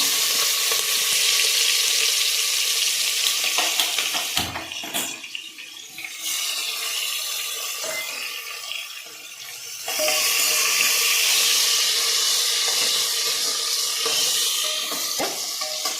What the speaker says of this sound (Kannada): ಇದು ಸೋಂಪು ಮತ್ತು ಜಾಕಾಯಿ, ಪಲಾವ್ ಎಲೆ ಇದಷ್ಟು ಎಣ್ಣೆಗೆ ಹಾಕ್ಬಿಟ್ಟು